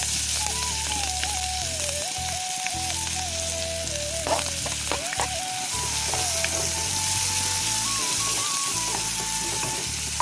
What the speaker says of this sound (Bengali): এখন আগে থেকে কেটে রাখা পেঁয়াজ কচিগুলো দিয়ে দিব।